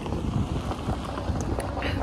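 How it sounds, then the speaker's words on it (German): Strong coastal wind in Croatia buffets the microphone with a continuous low roar and uneven gusts, close and fairly loud throughout. "Es ist wirklich sehr, sehr, sehr, sehr, sehr, sehr windig."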